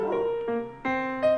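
A pet dog yips and barks in short tonal bursts, three or four close, high-pitched yaps in quick succession with whiny edges, heard alone.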